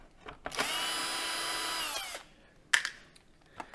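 Power drill unscrewing the screws on a coffee machine's grinder cover, one loud close whir of about a second and a half, then a sharp click and light handling noises.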